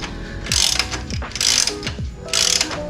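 A ratchet wrench loosens a bolt on a Triumph Tiger 900 skid plate, three loud, close bursts of rapid clicking separated by brief pauses.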